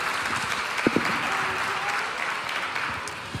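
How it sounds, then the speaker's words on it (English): A church congregation applauds during a Sunday morning sermon, a fairly quiet, even patter of clapping that holds steady for a few seconds and tapers slightly at the end. "We give them a round of applause."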